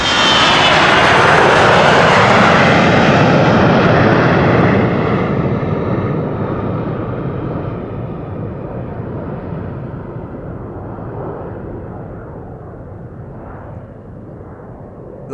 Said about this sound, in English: tiny bizjet, just a Global 6000